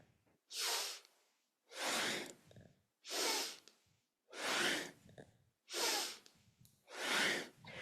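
Deep rhythmic breathing during a kundalini yoga bowing movement, inhaling while rising and exhaling while lowering the forehead to the floor: six strong, breathy bursts at steady intervals, close and loud, with no talking.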